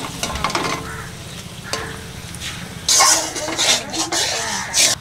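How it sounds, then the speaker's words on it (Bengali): Golda prawns frying in mustard oil in a pan: a continuous close sizzle with stirring and scraping, flaring into louder bursts of spitting hiss in the second half, with no talk. "গলদা চিংড়ি মাছটা ভেজে নেব।"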